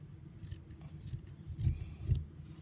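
Scissors snipping through felt to shape the corners of a small toy sleeping bag, a series of close, crisp rasping cuts with the two strongest near the end.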